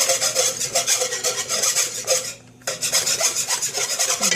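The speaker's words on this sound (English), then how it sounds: "And I'm going to whisk it in." A whisk scrapes rhythmically against a bowl while unflavored gelatin is worked into a mixture, loud close raspy strokes repeating steadily, with a brief pause midway and no talking.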